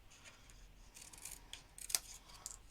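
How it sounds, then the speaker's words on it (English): Scissors making small miter cuts on the outside tabs of a paper gift box, heard as a few faint, crisp snips close by in a quiet room, with one sharper cut standing out. "going to do this little miter cut on the outside tabs"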